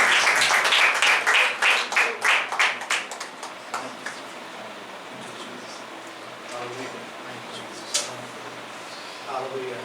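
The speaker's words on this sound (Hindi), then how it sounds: "We'll all give a clap offering to God and we'll welcome our pastor." A church congregation claps in rhythm to welcome their pastor at a Sunday service. Loud, quick, even claps open the clip, then thin out and fade into a murmuring room with a few stray taps.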